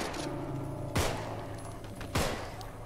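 Gunfire in the video game Contagion: two sharp, loud shots about a second apart over a low background hum, each with a short echoing tail.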